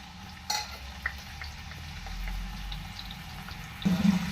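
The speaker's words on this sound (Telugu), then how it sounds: "ఓకే నేను ఆయిల్ హీట్ ఎక్కింది కదా, ఆలు ఫ్రై చేసుకుందాం" Potatoes fry in hot oil with a soft, quiet sizzle, and there are occasional stirring clinks throughout. Near the end, a louder scrape or clatter stands out.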